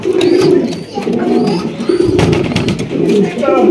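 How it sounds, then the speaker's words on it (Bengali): A pair of red German Shield pigeons coo in repeated soft, throaty phrases close by, with a person talking over them. "টকটকা লাল গিয়ারের একজোড়া জার্মান শিল কবুতর"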